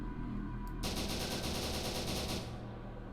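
An automatic gun fires at its normal rate in SCP: Secret Laboratory as one fast, continuous, evenly spaced burst lasting under two seconds. A faint steady background sits under the shots and the firing stops cleanly, with no talk.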